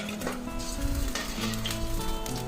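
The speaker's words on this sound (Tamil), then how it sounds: "எண்ணெய் சூடானதுக்கப்புறம் எல்லா உருண்டைகளையும் நம்ம எண்ணெயில் ஃப்ரை பண்ணி எடுத்துக்கலாம்." Raw banana balls deep frying in hot oil, a steady loud sizzle and bubbling throughout with a few stirring clinks, no voices.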